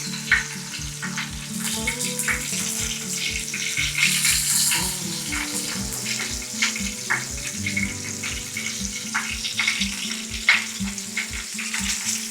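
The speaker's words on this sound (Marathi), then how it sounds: "तेल थोडा वेळ गरम करून हे बोंबील ऑइल फ्राय करून घ्यायचे बघा मस्त." Bombil (Bombay duck) fish coated in flour shallow-frying in hot oil, a steady close sizzle and crackle with a regular low rhythmic knocking underneath, no talking.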